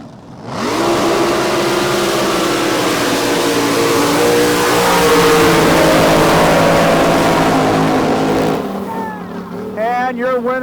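Top Alcohol Flat Bottom drag boats roar down the water in a final elimination at an El Reno, Oklahoma drag boat meet, engines loud and sustained for several seconds before fading, with an announcer's voice coming in near the end.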